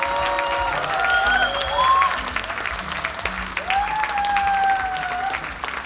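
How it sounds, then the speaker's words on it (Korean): Steady applause from an audience at a political talk concert in Wonju, Gangwon, with sustained clapping filling the hall and scattered cheers and whistle-like tones rising over it. "무대 위에 계시는 어벤져스 여러분들 큰 박수로 환영해주세요."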